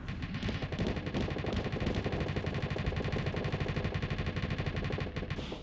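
Salamander missiles launched from ships in the space combat game Starsector, a dense, continuous rapid-fire clatter of launches and impacts that stays loud and steady throughout, with no talking.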